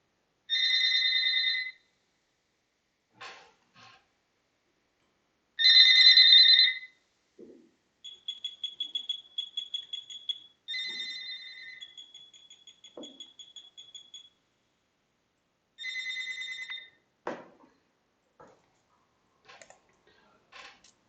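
An electronic telephone ringtone repeats in bright two-tone bursts, alternating with rapid beeping trills and pauses, clear and close during an online software engineering lecture.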